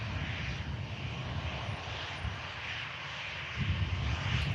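An airliner's engines drone at Manchester Airport, a faint, steady distant rumble with a broad hiss that swells slightly near the end, no voices.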